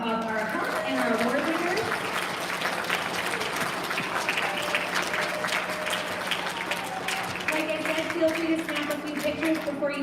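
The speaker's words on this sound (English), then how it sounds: "So just a big round of applause for our help and our award winners." An audience claps steadily for student award winners at an elementary school recognition ceremony, dense sustained applause with scattered voices and cheers mixed in throughout.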